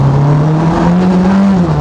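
A Formula Ford race car of 150 horsepower and 495 kilograms drives on a racetrack, its engine holding a loud, steady drone that rises slightly in pitch and then settles, heard close from the car itself.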